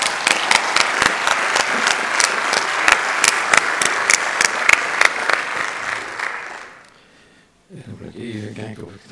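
Audience applause for the organisers at a farewell symposium, dense clapping from a crowd lasting about six seconds, then fading out before a speaker resumes talking.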